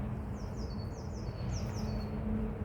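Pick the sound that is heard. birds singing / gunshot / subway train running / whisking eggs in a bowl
birds singing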